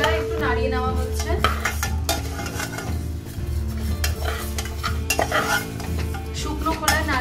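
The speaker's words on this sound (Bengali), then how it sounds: "শুকনো খোলায় একটু নাড়িয়ে নেওয়া হচ্ছে।" Moong dal dry-roasting in an ungreased pan, stirred steadily with a metal spoon that scrapes and clinks against the pan in a continuous, busy rhythm with a faint sizzle underneath, loud and close.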